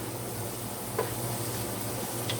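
Vegetables sautéing in a pot give a continuous soft sizzle, fairly quiet and steady, with a brief scrape or stir near the middle and a low hum beneath; no one speaks.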